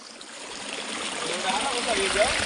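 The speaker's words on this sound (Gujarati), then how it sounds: "પાણી જાય" Water runs through a farm channel at a village orchard, giving a steady rushing flow that grows slightly louder and nearer over the short stretch.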